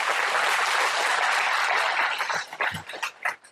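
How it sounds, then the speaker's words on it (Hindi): Audience at a motivational talk breaks into dense applause for about two seconds, then thins to scattered, uneven claps before fading. "ताली नहीं बजाई आप लोगों ने"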